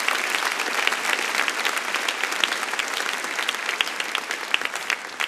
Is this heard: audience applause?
yes